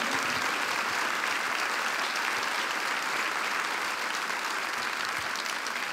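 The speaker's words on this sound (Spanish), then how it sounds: "dale un fuerte aplauso al Señor" Loud, sustained applause from a large church congregation, a dense continuous roar of clapping that holds steady throughout.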